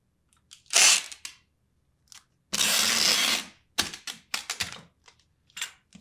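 Packing tape pulled off a roll and pressed onto a package being prepared for shipping: a long screeching strip, then several short rips and taps, close and fairly loud in an otherwise quiet room.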